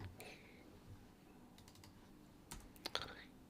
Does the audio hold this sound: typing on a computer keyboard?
yes